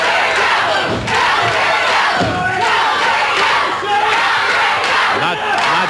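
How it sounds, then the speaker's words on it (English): A studio crowd at an NWA Championship Wrestling match roars and cheers continuously, a dense, loud wall of voices with rising shouts throughout. "Not so much that they're getting on Eddie as they're cheering for Jerry"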